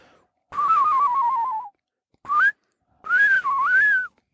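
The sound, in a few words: human whistling imitating a bird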